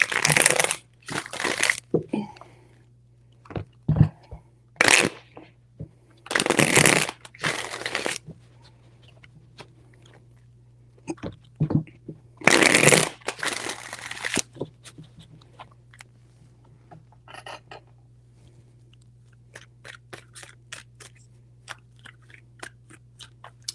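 Bursts of crisp card shuffling come in short riffling sweeps separated by quiet pauses, with a low steady hum underneath.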